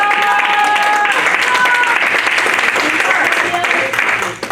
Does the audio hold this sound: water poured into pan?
no